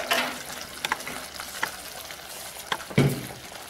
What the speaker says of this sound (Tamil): அடுப்பை விட்டு எப்படி கொதிக்குதுன்னு பாருங்கள்.